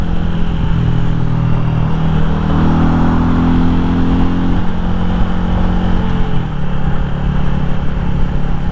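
A Royal Enfield Classic 350 motorcycle cruises along a dual carriageway in Wales, its loud, steady engine drone mixed with wind rush and a brief shift in pitch partway through.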